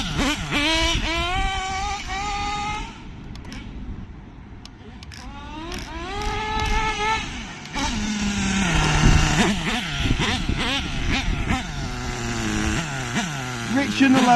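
A nitro RC car engine buzzes and revs in bursts while its carburetor is adjusted, the high rasping pitch rising and falling, with a brief drop to a lower idle midway and talk over it.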